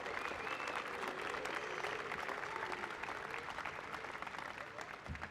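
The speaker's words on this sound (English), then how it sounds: "please give those graduates a round of applause for their service now and in the future" Sustained crowd applause for graduates at a May 2025 commencement ceremony, dense steady clapping from a large audience filling the hall from start to finish.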